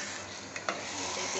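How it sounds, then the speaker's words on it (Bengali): Biryani stirred in a frying pan: steady sizzling hiss with a couple of brief scraping strokes from the spoon, close up and without talk. "আর একটু নেড়ে দেব"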